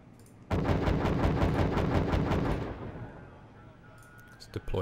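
Artillery fire in the Steel Division 2 wartime strategy game arrives as a sudden loud burst of rapid, evenly spaced booms for about two seconds, then trails off into a fading rumble with a few sharp clicks at the end.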